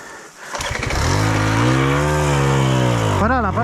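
A motorcycle on a steep forest climb revs loudly right beside the listener, its engine note swelling up and then easing back in a sustained close roar before a brief sharp rise at the end.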